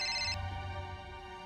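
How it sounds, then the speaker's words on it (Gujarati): A phone ringtone plays briefly and brightly in a quiet room, stopping abruptly after about a third of a second and leaving a soft low hum. "અત્યારે કોણ ફોન કરે છે આ કામ ટાણે?"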